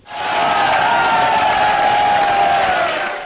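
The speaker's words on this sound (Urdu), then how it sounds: "اس بزرگ رقاص کے فرمائشی رقص نے حاضرین کو تالیاں بجانے پر مجبور کر دیا۔" A large crowd at a rally roars and cheers during a dance, a dense sustained wall of shouting voices with one voice holding a long yell above the rest, loud and continuous.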